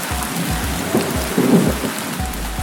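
Brief burst of sudden March rain at the Chitharal hilltop Jain temple: dense pattering on hard surfaces with a soft thunder rumble swelling midway, continuous and close, no speech.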